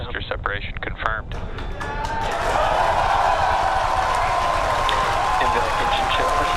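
Voices at first, then a broad wash of crowd cheering and roaring at a SpaceX Falcon Heavy rocket launch swells up and holds steady, loud and sustained.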